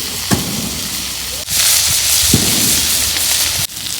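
Rupchanda fish frying in a hot wok, a steady loud sizzle and crackle with occasional sharp pops and clatters, continuous throughout.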